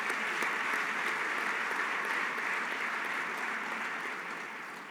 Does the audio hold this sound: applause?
yes